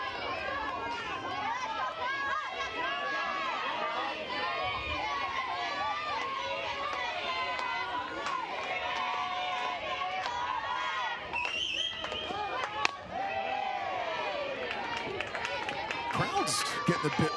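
Crowd at a junior league softball game, a dense continuous roar of chatter and shouting voices with scattered cheers, steady and loud throughout.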